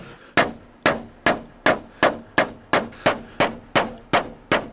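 About eleven steady, evenly spaced hammer blows drive nails into hand-cut slate stone roof tiles. Each strike is a bright, ringing clang, close and clear, with no talking.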